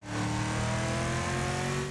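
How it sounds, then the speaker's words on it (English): A deep, rumbling American V8 engine in the video game Wreckfest holds a steady, loud drone at constant revs, with a low bassy tone and no talking. "From the low bass of an American V8"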